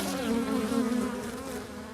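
Bumblebees buzz close by in a steady, droning hum that wavers slightly in pitch.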